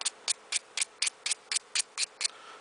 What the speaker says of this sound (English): So you just take the finer grit sandpaper